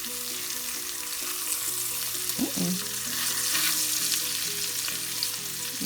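A salmon fillet sears skin side down in a hot pan, giving a loud, steady, close sizzle that crackles continuously, with a brief clunk partway through and a faint tonal hum underneath.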